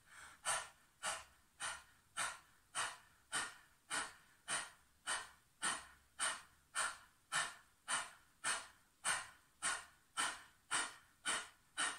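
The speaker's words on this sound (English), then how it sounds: "It's when you stick out your tongue and you pant like a dog." Panting breath with the tongue out, done as a kundalini yoga exercise: quick, even bursts of breath repeat about eighteen times in steady rhythm, close and fairly quiet, with no talking.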